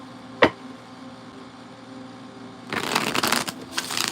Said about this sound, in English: Just get a good shuffle here.